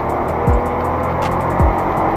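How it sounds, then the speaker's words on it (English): A 1.0-litre TSI petrol engine in a 2020 Skoda Rapid runs steadily at close range, a constant mechanical drone with two brief low whooshes like passing swells, no voices over it. "Paired with the gearbox is of course the very familiar nowadays 1 liter TSI engine"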